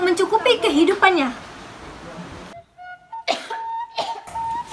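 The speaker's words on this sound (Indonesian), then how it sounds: "Hanya batuk biasa saja." A woman in a village household coughs, with a few dry bursts over speech-like voice and then quieter gaps and tonal sounds.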